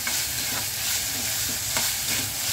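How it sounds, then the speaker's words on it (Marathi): Onion being sautéed in a pan for kantola bhaji, a steady soft sizzle with occasional stirring scrapes, close and even throughout, no voices. "कांदा परतते मी."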